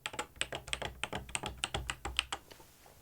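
Buttons pressed on a Pioneer DJ controller, the S11, give a quick run of about a dozen sharp plastic clicks and taps at an uneven rhythm, close and moderately loud, before a short quiet tail.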